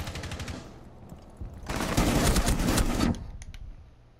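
Bursts of automatic gunfire in the tactical shooter Rainbow Six Siege, rapid rattling volleys that swell loud in the middle for over a second before cutting off, with quieter shots before and after.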